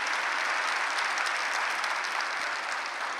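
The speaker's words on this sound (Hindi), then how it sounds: "भाई तालियां थोड़ी सी ठंडी ठंडी बज रही है" An audience at a spiritual talk claps in a continuous, even round of applause, dense and fairly close, with no voices standing out.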